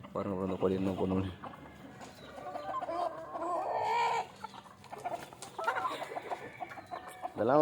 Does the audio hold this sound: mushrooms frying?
no